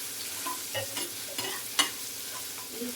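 Chopped onions sizzle and fry in a pan for a homemade onion capsicum gravy, with steady stirring scrapes and a few sharper clinks of the spoon over a constant low crackle.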